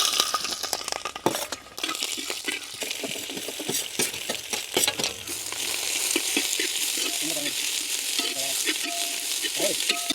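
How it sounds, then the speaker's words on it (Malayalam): Spices, curry leaves, green chilli and onion sauté in hot oil for a black chicken curry, giving a steady close sizzle with frequent scraping stir strokes and small clinks of the spoon against the pan. "ഇതൊന്ന് നല്ലപോലെ കളർ മാറി വരുന്നിടം വരെ നല്ലപോലെ വഴറ്റി കൊടുക്കുക"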